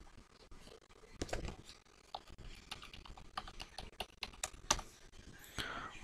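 Typing an Aadhaar number on a computer keyboard during an online registration form entry: scattered, irregular key clicks at close range, fairly quiet, with no talking.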